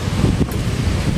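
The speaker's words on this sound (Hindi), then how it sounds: "ये पीछे जो है बड़ी ठंडी हवा चलती है" Cold wind blows behind a house, buffeting the microphone in loud, low rumbling gusts that rustle steadily throughout.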